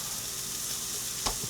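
Pork loins fry in a hot pan with a steady, close, loud sizzle throughout, broken by a single brief clack near the end.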